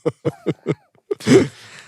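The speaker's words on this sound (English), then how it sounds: "This is dry cough." A person in a comedy sketch acts out a dry cough: four short, evenly spaced voiced coughs, then a brief pause and a harsher, rougher cough burst, all close and fairly loud.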